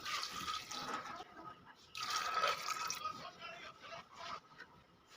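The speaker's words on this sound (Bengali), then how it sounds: "আমি এখানে আড়াই কাপ মতো জল দিয়ে দিলাম" Water is poured over peas in a pot while cooking ghugni, making soft, uneven splashing bursts that come and go for several seconds at low volume.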